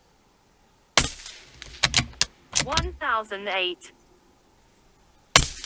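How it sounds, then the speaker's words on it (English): A Tikka T1X .22LR rifle fires RWS Subsonic HP rounds outdoors on a hot summer day: two sharp, short cracks several seconds apart, with someone speaking briefly between them. "It is so nice to shoot without earmuffs, especially on a hot summer day."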